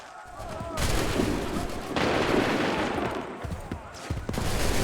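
Musket volley in Assassin's Creed III, several loud, close blasts of gunfire crackling in bursts with rumbling echoes between them and faint voices in the background.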